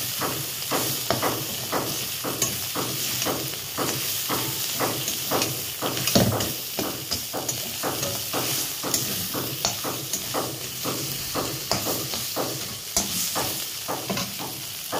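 Greens (saag) frying and being stirred in a pan, with a steady loud sizzle and regular rhythmic scraping strokes of the spoon throughout, no talking.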